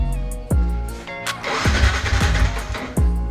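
A Yamaha Sniper 150 motorcycle with a clogged fuel injector is cranked repeatedly, with several short starter bursts and sputters that fail to catch into a running idle, close to the microphone.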